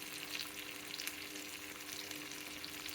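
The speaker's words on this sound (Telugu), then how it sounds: "ఇది వేగుతూ ఉంటుంది." Fish pieces frying in a hot pan for an Andhra-style fish fry, giving a steady, even sizzle and crackle that fills the whole stretch, fairly quiet and with no voices.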